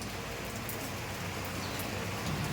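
Steady, dense hiss of rain falling, even and continuous with no voices.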